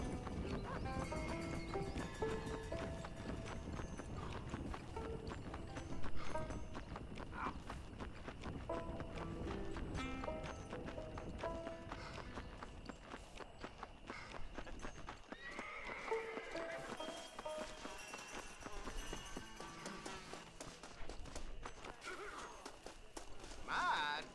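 A horse in the video game Red Dead Redemption walks with steady clip-clopping hooves and whinnies, heard close over game ambience while someone talks at times.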